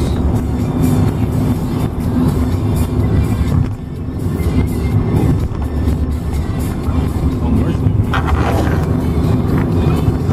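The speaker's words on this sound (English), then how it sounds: "driving through Paris." A car drives through the streets of Paris with a steady, loud engine and road rumble heard from inside the cabin, mixed with wind buffeting and no clear talk.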